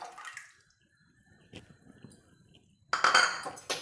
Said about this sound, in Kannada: ಹುಣಸೆ ರಸನೂ ಸಹ ಸೇರಿಸ್ತಾ ಇದ್ದೀನಿ.